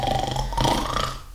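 A voice imitating a loud snore in a bedtime story about sleeping farm animals, one drawn-out rough rumbling breath heard close and alone.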